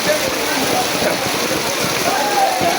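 Steady rain hissing across the whole clip over a flooded city, a dense wash of noise with faint voices murmuring underneath.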